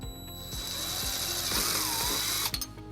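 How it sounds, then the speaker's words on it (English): A power drill with a 3/16 bit whirs steadily at close range for a few seconds, its motor pitch rising as it bites into a 2012 Dodge Nitro bumper, then winds down abruptly. "using a 3/16 drill bit, we're going to drill our first hole"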